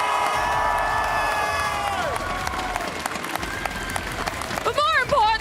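Loud esports arena crowd at a VCT EMEA 2026 Stage 1 final, Team Heretics versus Team Vitality, cheering and shouting continuously with whistles and yells rising near the end.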